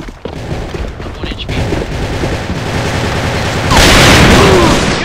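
Loud blasts and rattling gunfire in the shooter game AVA, with dense bursts building to a heavy roaring explosion near the end, close and harsh.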